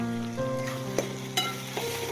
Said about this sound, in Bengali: মাছটা এখন ভালো করে ফ্রাই করতে হবে, একদম ভালো করে ফ্রাই করতে হবে।